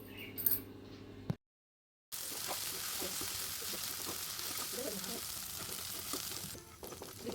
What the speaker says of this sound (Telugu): అల్లం వెల్లుల్లి పేస్ట్గా పచ్చివాసన పోయే వరకు బాగా వేయించుకోవాలి